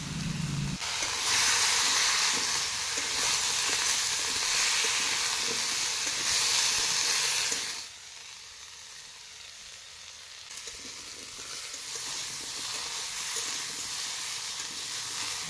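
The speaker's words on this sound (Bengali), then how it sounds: "পেঁয়াজগুলো হালকা ভাজা হয়ে এলে দিয়ে দিব কেটে রাখা সবজিগুলো দিয়ে আবারও 2 থেকে 3 মিনিট ভেজে নিব" Onions and chopped vegetables fry in a pan with a loud steady sizzle and hiss that drops to a quieter crackle after stirring, then builds again.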